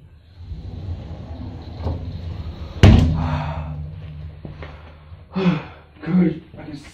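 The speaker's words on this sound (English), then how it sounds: "She just closed the door." A door shuts with a single sharp slam partway through, standing out over a steady low background hum with a few faint knocks and voices following.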